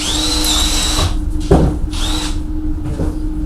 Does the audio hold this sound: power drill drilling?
yes